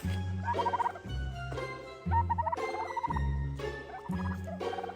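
Turkeys gobble loudly in repeated rattling calls, several bursts overlapping in a steady rhythm, close and clear with no talking.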